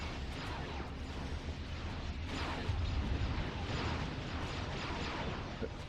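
Dense, continuous rumbling explosions and battle noise fill a Resistance: Fall of Man game scene, loud and unbroken throughout with no clear pauses.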